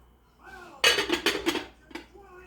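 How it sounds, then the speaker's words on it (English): A covered dish of quick mac and cheese knocks into an oven, giving several close, sharp clunks and clinks of cookware over about a second, then a lone softer clank. "In the oven it goes."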